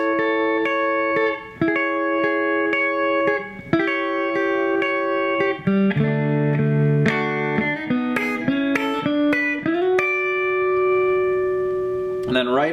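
An electric guitar plays a double-stop lick from a guitar lesson, paired sustained notes ringing clearly in a rhythmic sequence, some bent or sliding, with no talking over it.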